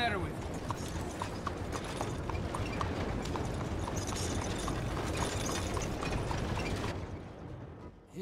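Horse hooves from a video game clip-clop in a steady walking rhythm over a busy, dense background, with talk mixed in, fading near the end.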